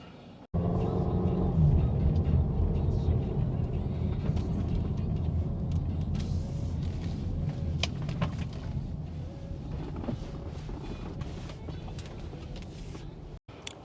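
A truck drives by with a heavy low rumble that swells and then slowly fades, loud and fairly close, with faint voices and background noise from the street.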